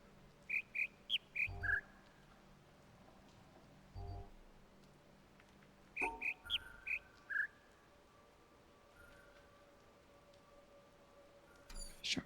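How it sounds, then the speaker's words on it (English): Bird calls in the puzzle game The Witness: a quick series of bright, high chirps repeats in two bursts, close and clear over a quiet outdoor ambience, with a fainter call near the end. "Are we really that close to this stupid bird?"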